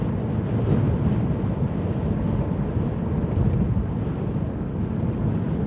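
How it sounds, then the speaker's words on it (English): Steady, loud wind roar buffets a car cruising down the M61 motorway in the UK, a continuous rushing broadband noise with no breaks and no voices. "I could hear the wind this morning. Definitely hear it now."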